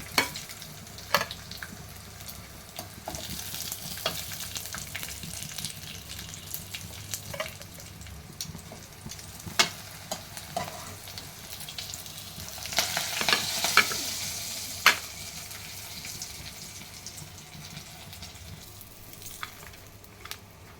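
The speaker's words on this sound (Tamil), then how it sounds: "அவ்வளோதாங்க, ஃப்ரை ஆகிடுச்சு. வெண்டைக்காய் ஃப்ரை." Okra (lady's finger) sizzles steadily as it fries in a pan, with a constant crackle and scattered sharp clicks and scrapes from stirring, growing briefly busier partway through; no voices.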